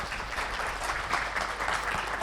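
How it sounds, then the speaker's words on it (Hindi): Sustained applause from an audience at a devotional talk on Mahalakshmi, a steady dense patter of many hands filling the whole moment at moderate level with no clear voices. "अपने लिए ताली भी बजा सकते हैं।"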